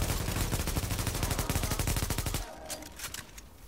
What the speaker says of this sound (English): I said that gun sounds nice. What one? The one in your hand. The G36? With the suppressor,